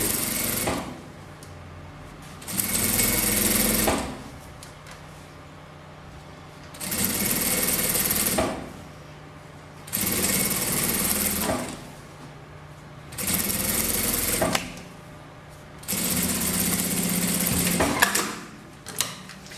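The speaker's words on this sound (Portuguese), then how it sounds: "primeiro eu vou fazer aqui uma costura bem na beiradinha" Sewing machine stitching along the edge of a handmade rug, running in six steady whirring bursts of a few seconds each, separated by short pauses, loud and close with no talking.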